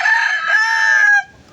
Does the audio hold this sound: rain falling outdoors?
no